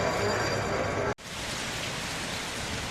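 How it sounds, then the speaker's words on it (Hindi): Steady rain with thunder showers pours down near the beach at Varkala, Kerala, a dense even hiss that briefly cuts out before resuming slightly softer. "सवेरे से थंडर शावर्स के साथ मस्त बारिश हो रही है, थंडर लाइटनिंग के साथ"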